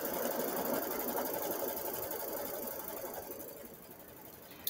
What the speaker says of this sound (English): We're going to start it up again. And we're going to stitch the placement line.